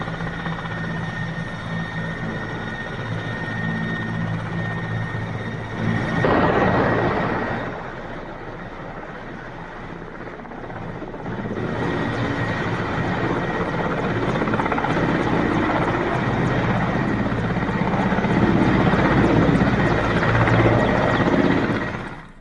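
An Air Force helicopter flies overhead during day-and-night practice near Jakholi, its steady rotor and engine roar loud throughout, briefly dipping then swelling again as it passes.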